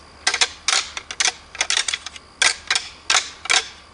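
Deer antlers bashed together to rattle in whitetail bucks, giving quick bursts of sharp, clattering clicks in short irregular clusters, close and fairly loud with no talking.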